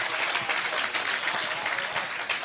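Audience applause at a Hindi-language religious discourse, a dense steady wash of clapping from a large crowd lasting the whole stretch, moderately loud with no voices on top.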